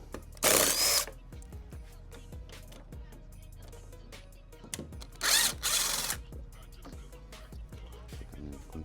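A power drill backs T25 screws out of the rear bumper on a Porsche Cayenne in a nearby workshop, with two loud whirring bursts over a background of clicks and handling noise.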